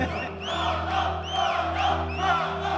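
A large boxing-event crowd roars and whoops, with rising shouts cutting through a dense wall of cheering voices.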